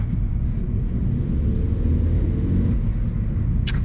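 A cheap Vauxhall Astra's engine drones steadily while driving, a loud constant low rumble with road noise, heard from inside the car without talk.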